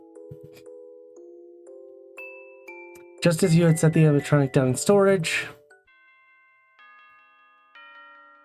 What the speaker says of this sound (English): The bell chimed through the building, presumably signaling the end of your first shift.